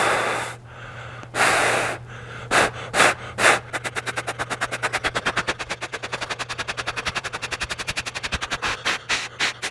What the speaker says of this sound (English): give me a second just to breathe really heavily